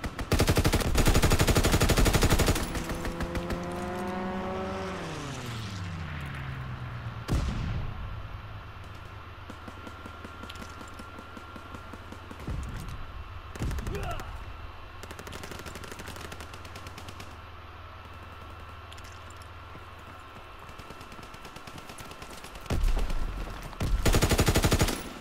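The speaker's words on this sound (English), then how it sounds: "Fighter pilot inbound, strafing the target." A fighter plane's machine guns strafe the ground in Call of Duty: WWII, opening with a loud close burst, then a descending engine whine, long rumbling fire and scattered blasts, ending in another heavy burst.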